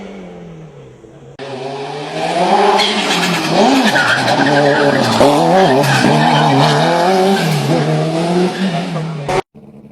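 Race car that held the Pikes Peak record for 13 years, skidding and revving hard at a time attack event, loud and close with rising and falling engine pitch and tire squeal, cutting off abruptly at the end.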